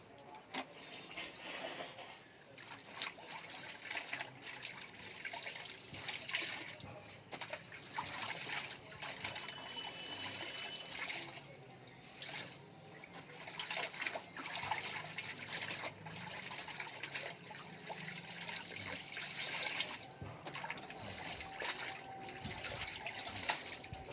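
Water runs and trickles steadily during the final rinse of hand-washed clothes, a continuous wash of sound with occasional splashes and faint voices in the background.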